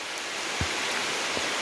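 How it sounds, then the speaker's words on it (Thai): Heavy rain pouring in a forest: a dense, continuous hiss of falling water with a couple of soft low thuds, moderately quiet and without speech. "เจอฝนครับโอ้ฝนตกเยอะเลยครับดูครับ"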